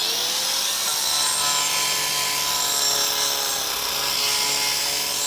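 Kaindl Woodcarver chainsaw attachment carving wood: a steady, loud high-pitched whine with a rasping grind runs continuously, close and alone, with no talk.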